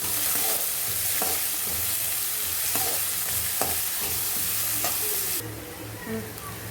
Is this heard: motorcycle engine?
no